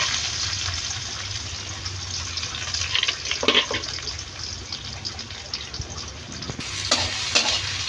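Chopped onion fries in hot oil in a wok, with a bay leaf in the pan: a steady, close sizzle runs throughout, with brief scraping bursts from stirring near the middle and end.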